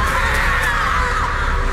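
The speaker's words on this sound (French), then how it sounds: "On l'entend hurler." A woman screaming in a film trailer, a loud sustained high-pitched wailing cry lasting nearly two seconds over dense background sound.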